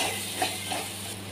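A spoon steadily stirs and mixes a chicken masala paste of chilies and spices in a hot pan, with a soft continuous sizzle and scraping under no speech.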